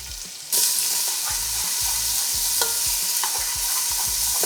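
Onions hit hot oil in a pressure cooker with a sudden loud sizzle that holds steady, while a spoon stirs and scrapes in a regular rhythm beneath it.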